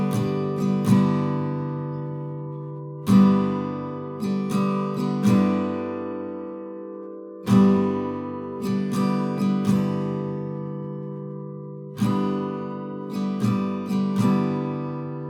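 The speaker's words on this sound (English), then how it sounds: "I'm starting with a down strum, and then I'm going to leave the hand down for the next up." An acoustic guitar is strummed at a slow tempo in a repeating down-up pattern, each chord ringing out and decaying before the next group of strokes, close and clear with no voice.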